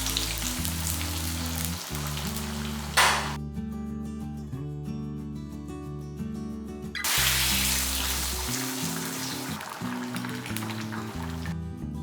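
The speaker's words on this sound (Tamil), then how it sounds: "இப்போ எடுத்து இதில் ஒரு தாளிப்பு கொடுத்துடலாம்." Tempering poured into a pot of ground-masala moong dal sambar, a broad hissing sizzle that rises in two waves beneath continuous background music.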